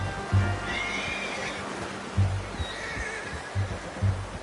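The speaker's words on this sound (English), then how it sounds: "How's that new horse?" A horse in Red Dead Redemption 2 neighs and snorts with soft hoof clops, several short bursts spaced across a quiet game scene, close and fairly faint.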